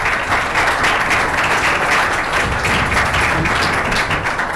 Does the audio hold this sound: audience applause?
yes